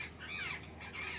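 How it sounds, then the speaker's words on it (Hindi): Parrots screeching close by in a home setting, a couple of harsh squawking calls with rising and falling shrill tones over a short stretch, no voices. "तोते चिल्ला रहे हैं, शायद आप लोगों को आवाज़ भी सुनाई दे रही हो तोते की।"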